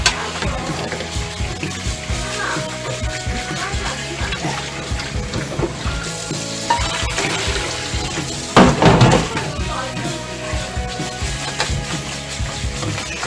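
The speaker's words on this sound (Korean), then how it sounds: "찬물에 헹궈 보도록 하겠습니다" Cold tap water runs steadily while food is rinsed, a continuous splashing wash with brief louder gushes partway through.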